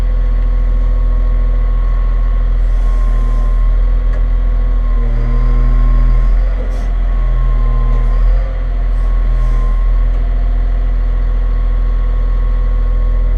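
A CAT 962H wheel loader engine idles steadily and loudly at close range during unloading in Barrie, Ontario, a deep constant drone with faint tonal whine shifts and no speech over it.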